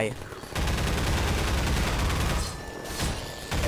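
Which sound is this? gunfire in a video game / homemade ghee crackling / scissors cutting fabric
gunfire in a video game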